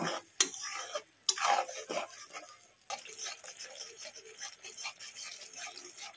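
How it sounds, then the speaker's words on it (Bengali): Spice paste for Bengali fish curry being stirred and fried in a pan, scraping and rattling utensil strokes with a soft sizzle, loud sharp clanks at the start, then steadier quieter stirring. "এভাবে আমি মশলাটাকে বেশ কিছুক্ষণ কষিয়ে নেব"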